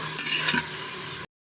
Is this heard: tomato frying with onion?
yes